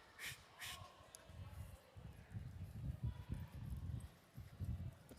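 A horse trotting in a training session, its hoofbeats a fairly steady low thudding rhythm through most of the stretch, with a few brief bright noises near the start.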